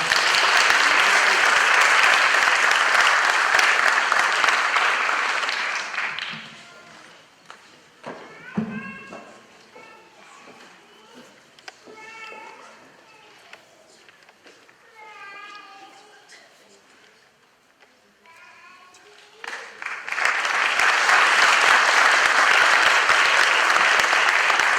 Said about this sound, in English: we'll get one big round of applause